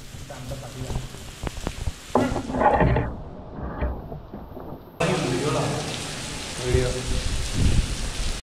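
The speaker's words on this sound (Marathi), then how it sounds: "फुल जोरात पाऊस चालू झाला त्यामुळे आम्ही थांबलो इथं" Heavy rain pours at Gorakhgad, a hill fort in Maharashtra, as a dense, steady close-up hiss that briefly thins before surging back at full strength, with muffled voices and movement underneath.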